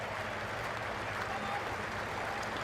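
Spectators at the Ageas Bowl applaud during an England versus Sri Lanka cricket match, steady broad clapping from a large crowd throughout.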